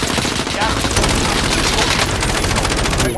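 Loud rapid gunfire, apparently from a video game, rattles in dense automatic bursts for a few seconds, close and unbroken.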